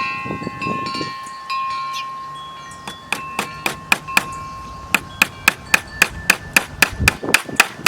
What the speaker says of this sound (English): I'll just nail it now so we don't have that popping off while I am trying to nail this.